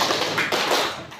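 Rhythmic hand clapping from a classroom clapping game, several close claps in quick succession filling a short burst.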